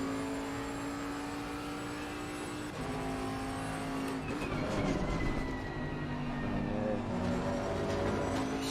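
A Bentley race car driven on a circuit during qualifying gives a loud, sustained engine drone heard from inside, its pitch holding steady, dropping at a gear change and then rising roughly.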